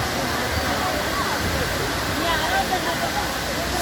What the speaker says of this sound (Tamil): வெள்ளி நீர்வீழ்ச்சி அப்படிங்கிறது இருக்குது